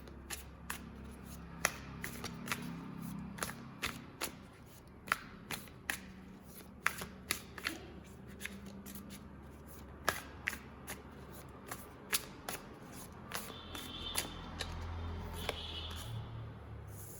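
Tarot cards being shuffled for a reading, a steady run of crisp card slaps and riffles repeating at a fairly even pace over a low background hum, close and fairly quiet.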